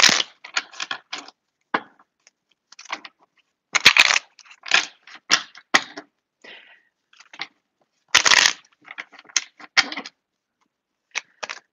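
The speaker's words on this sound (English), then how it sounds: "I gotta shuffle the detail cards." A deck of tarot cards being shuffled by hand in bursts of riffling and flicking, close and fairly quiet, with short pauses between clusters and no talk.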